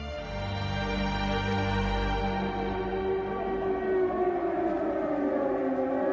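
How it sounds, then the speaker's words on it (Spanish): Air raid sirens in Berlin sound a loud, sustained civil defense wail that slowly shifts in pitch toward the end. No voices are heard. "suenan las sirenas en señal de alarma en Berlín"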